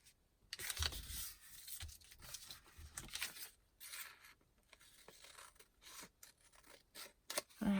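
Scissors snip through decorative paper being cut to make a pocket, a series of close, crisp cuts with rustling and tearing paper handling in between, no talking.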